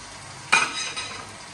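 Green chillies and ginger are stirred into a pan of mutton karahi, producing a sudden brief burst of sizzling and scraping that quickly fades to a gentle hiss.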